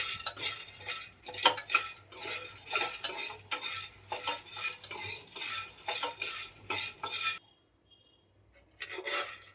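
Peanuts dry roasting in a pan while being stirred with a metal spoon, a rapid run of rhythmic scraping and rattling strokes, close and crisp, pausing briefly near the end before resuming.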